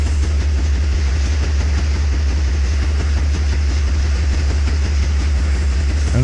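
Simulated train running in the Trainz (T:ANE) railway game, a steady low diesel engine drone and rolling rumble holding constant throughout with faint rhythmic clatter, no talk over it.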